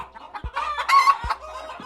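Chickens cluck and squawk nearby in short, jumbled bursts at the Solano County Fair, with a couple of low thumps underneath.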